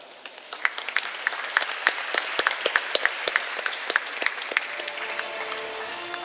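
Conference delegates clap in a hall, a scattered, moderately sized round of distinct hand claps at close range, thinning out toward the end as a faint tone lingers.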